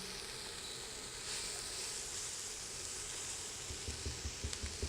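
String beans cook in a pot on medium heat with a soft steady sizzle and hiss, faint and close, a few low bubbling pops near the end and no voices.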